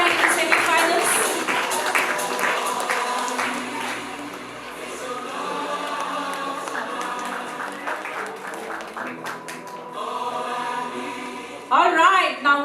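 Audience at a corporate cricket league awards ceremony applauding a team that qualified for the semi-finals. Dense, sustained clapping fills the room, eases slightly midway, then swells again, with a brief louder burst near the end.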